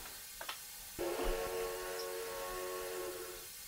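A steam locomotive in a train simulator game lets out a sudden sharp hiss of released steam that settles into a steady tonal hiss as pressure builds, preceded by brief clicks.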